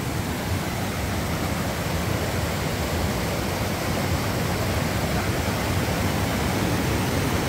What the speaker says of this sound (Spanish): toda esta corriente de agua viene pero a través de esta cueva que tenemos aquí